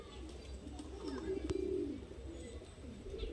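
Madrasi pigeons coo in a low, throaty bubbling burst near the middle, with softer cooing around it and faint background voices.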